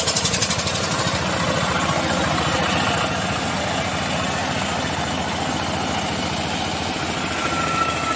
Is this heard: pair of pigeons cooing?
no